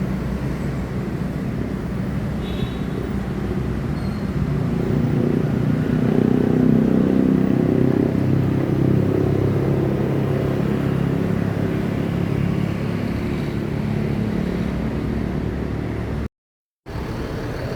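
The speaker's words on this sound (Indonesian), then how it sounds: "Tam Jet Bus 5 baru masuk dari Pekanbaru." A TAM JetBus 5 coach pulls in from Pekanbaru after a muddy Sumatra run, its engine rumbling at moderate distance and swelling slightly mid-way before settling, with a brief dropout near the end.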